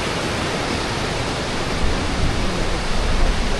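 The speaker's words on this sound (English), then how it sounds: "you're treated and greeted by another waterfall" A high waterfall in Croatia roars as a steady, dense rush of falling water, loud and continuous, swelling slightly toward the end with no voices over it.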